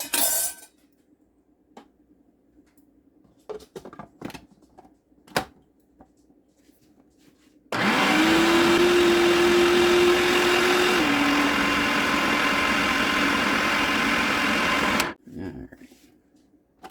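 A kitchen blender whirs through fermented jalapeño hot sauce, a loud steady roar that starts abruptly, drops slightly in pitch partway through and cuts off after about seven seconds, framed by quiet clinks and handling noises.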